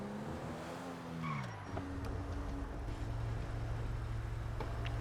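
In GTA Online, a car's engine note rises and then drops as the tires skid and squeal, followed by a rough, sustained driving roar.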